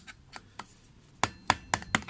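Hammer tapping on a new part for an Aprilia SR 50 motard scooter, a run of sharp metallic knocks, faint at first and then four louder, evenly spaced strikes close by.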